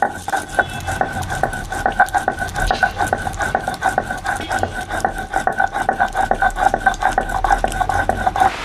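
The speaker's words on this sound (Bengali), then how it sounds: "এবার আমি আদাটা বেটে নিচ্ছি আর এই যে জিরের গুঁড়োটাও এটা একসাথে বেটে নেব" Ginger and cumin ground together into a paste, a steady rhythmic scraping and pounding of stone on stone, close and fairly loud, repeating evenly throughout with no talk.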